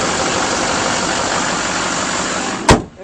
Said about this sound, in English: you get to hear the engine